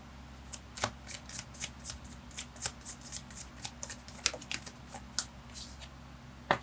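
Tarot cards being shuffled, a quick run of soft crisp riffling flicks and taps repeating steadily at close range with no talk over them.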